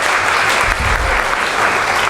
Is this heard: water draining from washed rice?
no